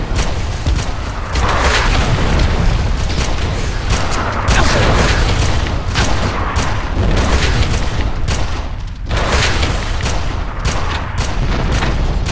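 Missiles explode in the Red Faction video game as loud, dense bursts of booming blasts and crackling gunfire, heavy and continuous with brief dips between volleys.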